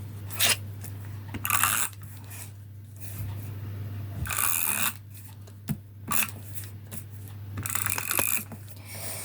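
A glue tape roller is pressed and drawn across paper for scrapbooking, giving short raspy rolling strokes in uneven bursts. The strokes are close and fairly quiet over a low steady background hum.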